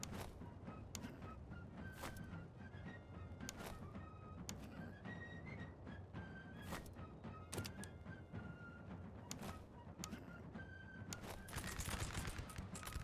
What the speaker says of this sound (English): Nice, that was a great volley